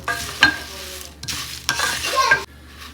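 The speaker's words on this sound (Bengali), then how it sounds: "এইরকমভাবে মুড়ি ভাজা করে নেব" Puffed rice is dry-fried and stirred in a pan, giving a near, continuous scraping rustle with louder sweeps and bursts of crackling, and no talking.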